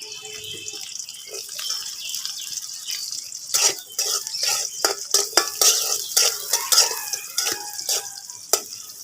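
Close sizzle of onions frying in a pan after garlic and ginger, with repeated metallic scrapes and clinks of a spatula stirring, growing busier and more rhythmic after the first few seconds.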